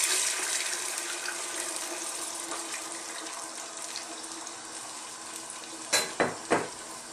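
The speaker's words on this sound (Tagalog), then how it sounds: "maglalagay tayo ng konting tubig para lumambot yung ating kalabasa" Water poured into a cooking pot of squash for a Filipino fish stew in coconut milk, a steady splashing wash that fades, then three short sharp clinks or bursts near the end.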